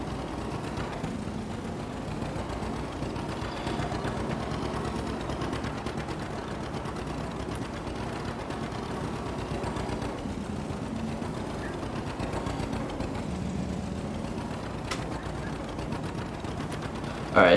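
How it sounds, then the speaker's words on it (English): A Case tractor in the Farming Simulator 22 video game drones steadily as its engine strains under load, a continuous low mechanical hum without pause and with no talk. "it's definitely stressing the tractor a bit, so I'm gonna switch off the case"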